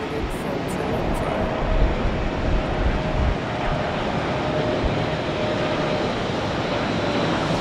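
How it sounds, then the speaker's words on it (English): An Air Canada Boeing 777-333 arriving at Heathrow from Toronto, a steady, moderately loud jet rumble with a faint engine whine running through it, continuous and unbroken. "Air Canada's Boeing 777-333, and that is coming in from Toronto."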